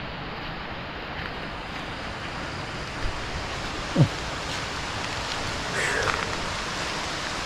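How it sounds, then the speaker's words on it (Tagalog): Steady rain falling outdoors, a soft continuous hiss of drops on surfaces with a few faint bumps and knocks, and no talk. "Ano ulit? Ulan."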